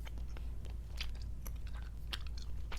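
Whispered ASMR gum chewing: close, moist smacks and soft clicks of gum in the mouth, irregular and intimate, with no spoken words.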